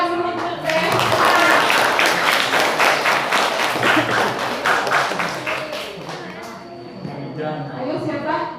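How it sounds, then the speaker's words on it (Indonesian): An audience at a reading-promotion talk claps steadily for several seconds, dense and fairly loud, while voices carry on over it and the clapping thins toward the end. "Tepuk tangan dulu untuk saya."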